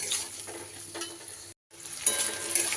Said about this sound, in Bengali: এক মিনিটের মতো একটু এইভাবে নাড়িয়ে চাড়িয়ে নিয়ে